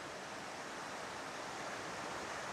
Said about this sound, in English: I'm going to give you the first view of Northrup Falls.